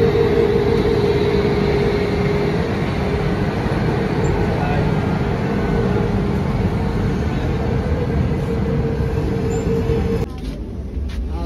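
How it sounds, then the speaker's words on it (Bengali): Train departing from platform 15 at New Delhi station, the Poorva Express, a steady loud rumble of rolling wheels and carriage noise with voices mixed in, dropping suddenly near the end. "ট্রেন ছেড়ে দিয়েছে, ট্রেন দেখালাম তোমাদেরকে, নিউ দিল্লি স্টেশন।"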